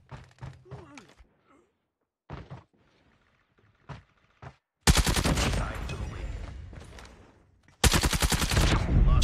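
Rapid SMG gunfire from Black Ops Zombies tears through in two loud, dense bursts in the second half, after a stretch of scattered short clicks and thuds.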